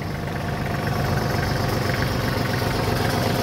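A Kubota GT23 compact diesel tractor engine idles close by with a steady, even chugging rumble and no other sounds.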